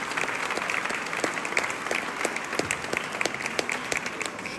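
A crowd applauds a choir after a concert in Fécamp where it accompanied a tenor, steady dense clapping with distinct claps standing out, no talking over it.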